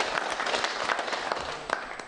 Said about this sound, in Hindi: आपकी शानदार तालियां आदरणीय गोपाल जी के लिए होना